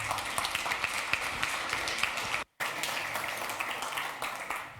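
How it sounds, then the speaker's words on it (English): Audience at a TYPO3 developer conference applauds to welcome a speaker, a steady, moderately loud roomful of clapping broken by a brief dropout midway. "An applause for Oliver Harder"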